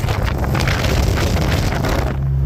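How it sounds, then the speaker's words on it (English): Strong wind buffeting the microphone in a steady, roaring rush, with a low car rumble underneath and no talking. "it's super windy now"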